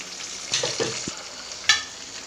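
Tomatoes drop into a hot pan for nila sooru and fry with a soft sizzle, punctuated by a few stirring scrapes and a sharp clatter near the end, no talking.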